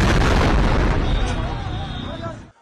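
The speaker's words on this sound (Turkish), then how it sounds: "Irak'ta bomba yüklü araç kalabalığın arasında böyle patlatıldı." A car bomb detonates amid a crowd in Baghdad, Iraq: a loud, sustained blast roar that fills the whole clip and rumbles on for over two seconds before cutting off abruptly.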